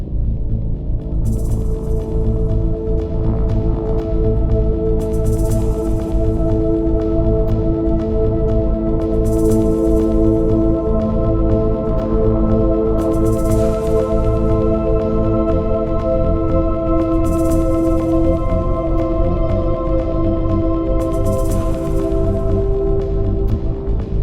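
Cinematic electronic scoring preset called Cybernetic Visions from Sonuscore's The Pulse, with sustained synth tones layered under steady, busy electronic percussion and periodic bright swells, loud and continuous throughout.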